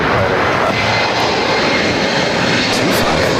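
Embraer 175 regional airliner at Los Angeles International Airport, its jet engines producing a steady, loud broadband roar that holds evenly throughout with no talk over it.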